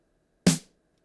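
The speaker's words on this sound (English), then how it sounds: "it is a snare drum from the Roland XV5080 synthesizer using the techno expansion board" A single snare hit from a Roland XV5080 synthesizer with the techno expansion board, sharp and bright with a brief noisy tail that dies out quickly, heard alone in silence.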